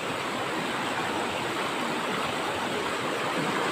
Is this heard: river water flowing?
yes